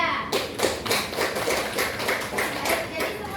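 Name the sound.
class clapping hands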